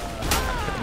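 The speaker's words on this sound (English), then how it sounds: "Shooting." Gunfire in Garry's Mod Trouble in Terrorist Town: a single sharp, loud burst near the middle of a brief moment, with a short noisy tail after it.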